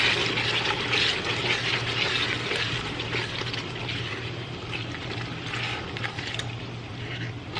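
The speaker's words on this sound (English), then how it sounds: "we'll just drop them in and let them melt and stir them in" Butter pieces for butter chicken dropped into a hot pan, melting and being stirred, with a steady soft sizzle and light scraping under a low hum, no talk.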